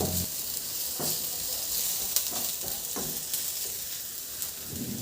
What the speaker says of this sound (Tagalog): Igisa lang ng mabuti hanggang sa maluto yung sibuyas.